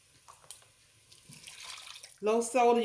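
Low-sodium beef broth poured into a pot for stew, a faint liquid trickle and light splashing up close, followed at the end by someone speaking.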